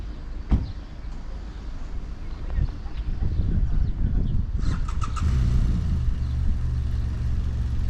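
Traffic held up at a canal bridge on the Monmouthshire and Brecon Canal moves off, a car engine rising and passing close by with a sharp knock early on and some faint voices.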